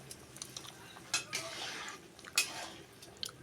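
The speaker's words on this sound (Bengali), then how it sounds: "জলটা দিয়ে আবার এইভাবে নেড়ে নিচ্ছি" Potatoes being stirred in a pot of boiling water, sounding as faint, sparse utensil scrapes and a couple of soft clinks against the pot over a low, steady background hiss.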